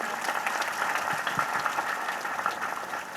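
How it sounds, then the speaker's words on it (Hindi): A large audience at a Catholic pilgrimage feast of Our Lady of Good Health in Ballia claps in a steady, dense wash of applause that holds evenly for a few seconds without voices over it. "एक बार और ताली बजाइए।"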